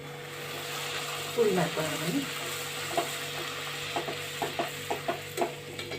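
Wheat-flour puri frying in hot oil makes a steady close sizzle, with rhythmic scraping and stirring clicks in the second half; a voice speaks briefly over it.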